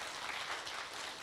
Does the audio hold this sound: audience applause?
yes